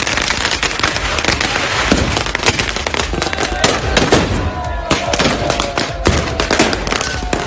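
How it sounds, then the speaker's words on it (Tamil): Firecrackers burst nonstop from a mock cannon during a village gunpowder Holi celebration, where people dress as soldiers. Dense, loud crackling pops overlap continuously throughout. "செயற்கை பீரங்கி மூலமாக பட்டாசுகளை வெடித்து கொண்டாடினர்"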